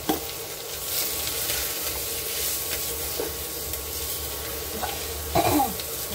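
Spices with turmeric fry in a pan with a steady close sizzle, a few stirring scrapes, and a brief cough or throat clearing near the end.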